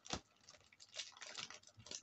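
Adhesive tape is peeled off a Temu parcel in faint, crackly bursts, one sharp rip near the start and then a few scattered tearing patches, heard close and alone.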